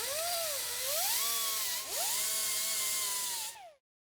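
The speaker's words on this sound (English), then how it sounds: "I'm grinding one side of the bolt so I can slide it past the inner fender liner" A power grinder cutting down one side of a bolt during a 4Runner suspension install; a loud, whining tool note rises and dips as the load changes, then cuts off abruptly near the end with no talk.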